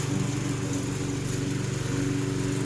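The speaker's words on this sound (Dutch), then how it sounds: "Dit is grasmaaier nummer 4 in de 8 jaar dat we hier wonen." A new lawn mower's engine runs steadily at a close distance, a continuous throbbing drone with no talk over it.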